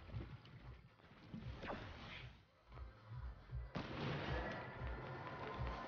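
Distant video game gunfire directed at teammates, a muffled string of shots and bursts at low level, sounding far off under other game noise.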